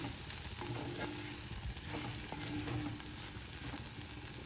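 Sprouts and green peas frying in a pan, a steady close sizzle with a spatula stirring and scraping through it, no voices.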